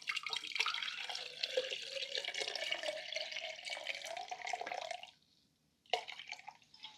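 Tap water runs steadily into a container for a Philodendron Paraiso Verde cutting, the pitch rising as it fills; it stops abruptly, then a short splash follows.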